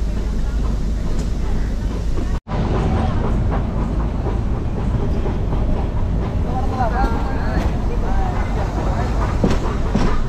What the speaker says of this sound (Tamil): இங்கிட்டு ஸ்ட்ரெயிட்டாக ட்ரெயின் போகுது.